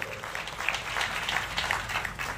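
Applause welcoming guests at a ceremony: a dense, steady patter of many hands clapping together for a couple of seconds, moderately loud with no voices on top.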